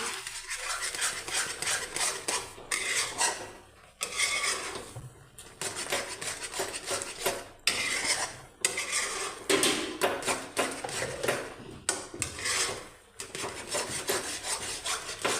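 Khoya barfi mixture stirred continuously in a kadai, a steady scraping and rubbing of spoon against the metal pan in close, repeated strokes with brief pauses, no talk.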